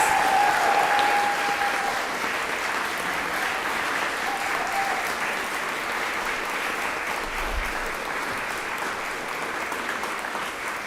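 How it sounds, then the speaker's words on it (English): An audience at a Teacher of the Year celebration gives a sustained round of applause for the honorees, even and moderately loud clapping that fades slightly toward the end. "And now let's give these wonderful, beautiful people a round of applause."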